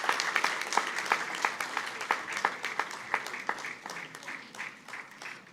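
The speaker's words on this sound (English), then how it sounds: "Can we have a big round of applause for him" An audience applauds a flute player at a felicitation ceremony, a fairly quiet, continuous patter of many hands with clear individual claps standing out, fading slightly toward the end.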